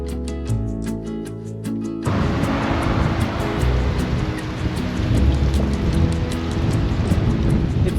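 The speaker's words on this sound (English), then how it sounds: "It's so windy, I'm almost struggling to drive right now." Strong wind buffets a microphone while riding a motorbike, a loud rough rumble that kicks in abruptly after a quieter tonal opening and then churns on continuously with gusty swells.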